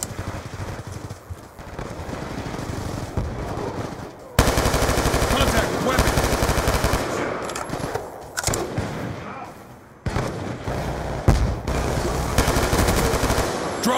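Sustained automatic weapon fire from a Call of Duty Black Ops 2 multiplayer match, loud, dense bursts running almost the whole time with only brief lulls, layered with explosions and game effects.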